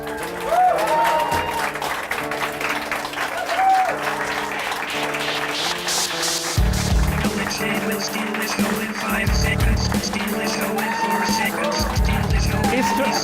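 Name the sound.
audience applause for guest Alex Shane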